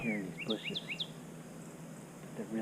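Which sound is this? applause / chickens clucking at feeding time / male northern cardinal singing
male northern cardinal singing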